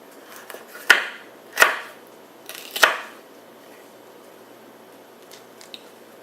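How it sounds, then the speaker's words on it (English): A knife chops food roughly across a cutting board while making red beans and rice: three sharp, close chops spaced about a second apart, followed by quiet. "I kind of gather it up and just go straight across and give it a nice rough chop"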